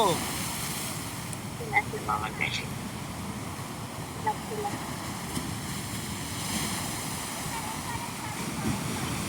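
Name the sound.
sea waves breaking on the shore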